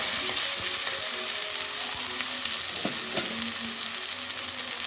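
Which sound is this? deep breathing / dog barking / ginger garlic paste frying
ginger garlic paste frying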